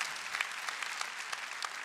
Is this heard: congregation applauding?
yes